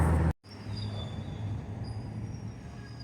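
An Amtrak train sits in a rail yard, giving a steady, continuous broadband rumble with faint high squealing tones, heard alone after a short burst of other noise cuts off abruptly.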